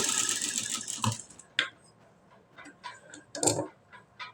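A sewing machine stitches a high-neck, back-open blouse with potli buttons, giving a run of mechanical ticking followed by scattered clicks and clunks, close and moderately loud without speech.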